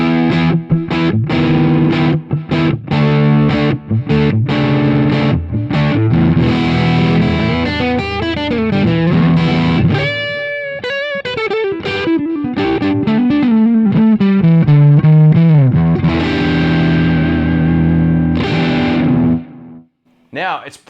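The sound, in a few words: electric guitar through amp drive channel, overdrive pedal off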